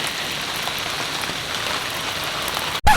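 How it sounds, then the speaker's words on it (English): Heavy rain pours steadily onto a sailboat during extreme rainfall in BC, a dense continuous hiss that holds level for most of the stretch, then cuts off abruptly near the end before returning loud. "BC has been experiencing extreme amounts of rain over the last couple weeks"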